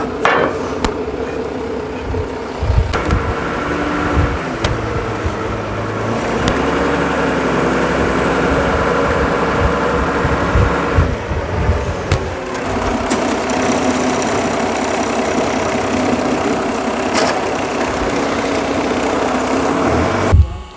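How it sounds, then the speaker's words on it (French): A stone-cutting saw fitted with diamond segments bites steadily through a stone block in a cutting workshop, a loud continuous grinding whine with shifting pitch and a few sharp knocks, running alone without talk. "une coupe minutieuse, identique à cette pierre transportée vers l'atelier de découpe, va être réalisée par la débiteuse équipée de pastilles diamant"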